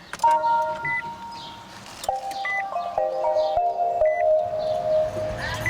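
A 2017 Nissan Leaf electric car powering up, its start-up chimes and electronic tones ringing out in steady stepped notes close by inside the cabin, with a low background hum and no talking.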